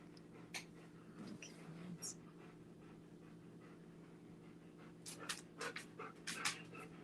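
A dog pants quietly in short rapid bursts, faint and close, with soft rustling and low background hum.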